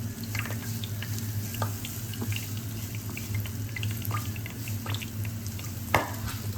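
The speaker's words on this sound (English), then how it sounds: "Oh yeah, the oil is really bubbling up." Hot oil bubbles and sizzles in a frying pan while cooking Japanese rice, a steady close hiss with scattered pops and crackles over a low kitchen hum.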